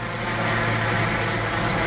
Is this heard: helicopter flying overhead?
yes